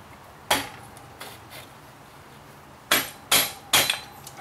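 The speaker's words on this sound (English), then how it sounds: "Oh, I got a hammer." Sharp metallic hammer strikes while swapping sprockets on a Suzuki DR650 motorcycle, one early, then a quick series of three louder blows near the end, with quieter taps between.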